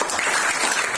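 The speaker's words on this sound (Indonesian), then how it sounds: "Kita berikan tepuk tangan Tony." An audience at a motivational success seminar applauds for about a second, a dense, steady wash of clapping with no gaps, loud and close throughout.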